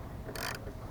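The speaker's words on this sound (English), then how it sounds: "now I'm just putting the wiper motor back with the" A ratchet tightens the T30 bolts holding a wiper motor during installation of a WIPEBOY wiper kit, giving one short burst of rapid, close clicking.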